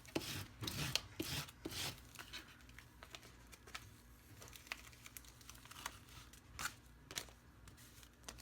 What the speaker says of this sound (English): I'm going to give that a good rub.